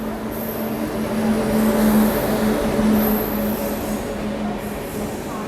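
The Samarsata Express, running Shalimar to Lokmanya Tilak, passes close by with a steady loud rumble of wheels and carriages, a faint high squeal on top and a low tonal hum throughout.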